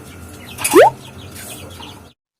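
A chicken gives a single loud, sharp squawk close by, followed by softer clucking and faint background sounds before the clip falls silent.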